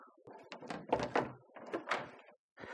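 Air purifier pre-filter pressed into its latches, giving a few close plastic thunks and rattling knocks in quick succession, with no talk.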